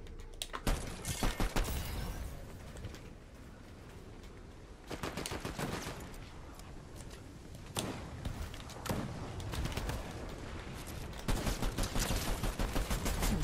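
Pistol shots in Fortnite come in scattered clusters of sharp, fairly close cracks separated by quiet gaps, with a busier flurry toward the end.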